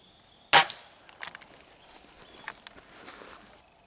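A video game gunshot rings out as one sharp, loud crack, followed by a few fainter clicks and taps over a low background hum.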